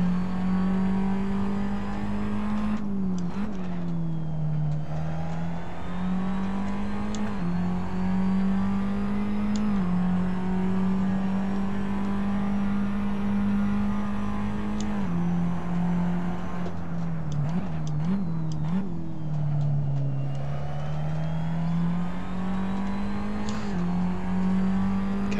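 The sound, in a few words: Formula Abarth race car engine on track at Sepang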